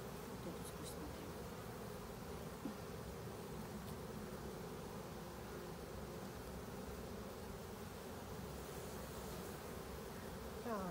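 Honey bees hum in a dense, continuous buzz at an apiary beehive, a steady swarm drone that stays even throughout with no talk over it.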